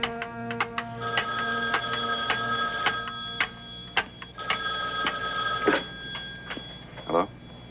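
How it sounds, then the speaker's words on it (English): A telephone rings in a radio detective drama, several bright repeated electronic ring bursts in an irregular rhythm, close and clear, with a brief rattling tone near the end. "Then the phone rang."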